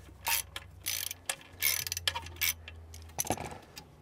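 A ratchet with a quarter-inch socket works the bonding wire fastener on a Sta-Rite Max-E Pro pool pump motor, producing close, quick bursts of clicking, with a low motor hum underneath at first.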